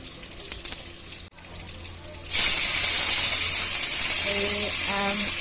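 Panch phoron, dry red chili and bay leaf drop into hot oil and burst into a loud, steady sizzle that starts suddenly and keeps hissing, with a few clinks and a voice speaking beneath it.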